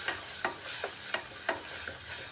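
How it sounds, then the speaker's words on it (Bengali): Spice masala with chana masala is slowly stir-fried in a pan over a medium gas flame for egg kosa, a soft sizzle broken by about six regular scraping strokes of a spatula, close and fairly quiet. "এখানে গ্যাসের আঁচটা মিডিয়ামে রেখে একটু সময় নিয়ে ধীরে ধীরে মশলাটা কষিয়ে নিতে হবে"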